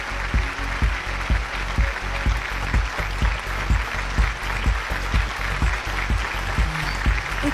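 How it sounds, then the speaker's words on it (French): Audience applause mixed with rhythmic heavy thumps, likely stomping or drum beats, a loud, lively crowd cheering on and off throughout. "Applaudissez bien fort."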